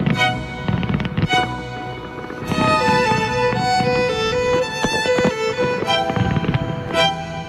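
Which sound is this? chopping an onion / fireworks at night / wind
fireworks at night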